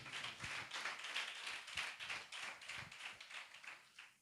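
A church congregation claps hands together during a Sunday worship service, a steady rhythmic beat of many palms, soft and somewhat distant, continuing without pause.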